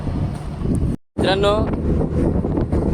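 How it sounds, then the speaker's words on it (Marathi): Loud, steady wind rushing across a microphone on a merchant ship's deck in bad weather, with a brief dropout, a short voice rising over the roar partway through. "वारा वगैरे भरपूर आहे, वेदर सुद्धा खराब आहे"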